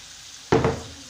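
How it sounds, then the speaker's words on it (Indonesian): A short sizzling burst as blended spice paste with a little added water is stirred in a hot pan, flaring loudly for a moment then settling. "kita aduk lagi"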